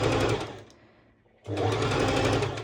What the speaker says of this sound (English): I'm going to use a straight stitch because this will allow me a better stitch to stretch my elastic